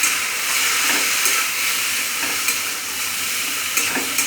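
Pointed gourd (potol) fries in a pan with turmeric and chili powder, giving a constant loud sizzle with faint stirring scrapes and occasional soft knocks.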